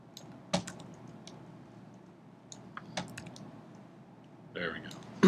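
Computer keyboard struck in short bursts of quick shortcut keypresses, scattered sharp clicks with brief pauses between, close to the microphone over a low background hum.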